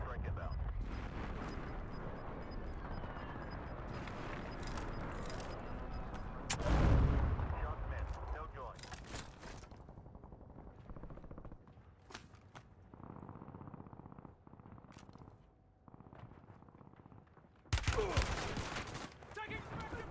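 AK rifle fire in a Call of Duty match, with dense bursts of gunfire and booming blasts that surge loudly in the middle and again near the end, set against continuous game background noise.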